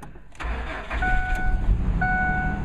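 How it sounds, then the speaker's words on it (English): A 2006 Ford F150 pickup with 123,000 miles cranks and fires up after a fuel pump module replacement, the engine catching within half a second and settling into a steady, close idle. "It started right up."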